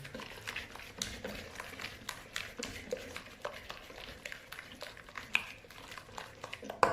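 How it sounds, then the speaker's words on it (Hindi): Sugar being mixed into a tart filling, with soft, rapid scraping and stirring strokes in a bowl, quiet and rhythmic. "उसके बाद 70 ग्राम शुगर डालेंगे और फिर मिक्स करेंगे इसको अच्छी तरह से।"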